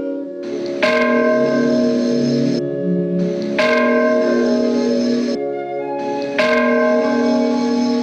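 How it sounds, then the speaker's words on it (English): The gigantic bell of the Church of Mary Immaculate Conception in Panjim, Goa, rings the Angelus in the early morning, three loud strikes about three seconds apart, each with a long, rich humming decay and no talk. "It is early morning, and the gigantic bell of the Church of Mary Immaculate Conception Panjim is announcing the Angelus Hour."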